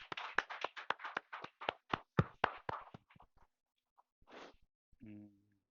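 Sparse clapping from a small gathering at a joint Sunday church service, a dozen or so close, quiet claps that thin out and stop, followed by a brief rustle and a short voice.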